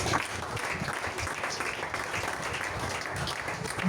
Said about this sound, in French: Merci de bien pour acclamer Jésus.